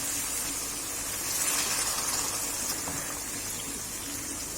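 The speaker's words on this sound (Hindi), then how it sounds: "अब हाफ गिलास हम पानी ऐड करेंगे।" Half a glass of water poured into simmering meat gravy for tinday gosht, a broad steady rush of liquid hitting the pan, close and fairly loud without a break.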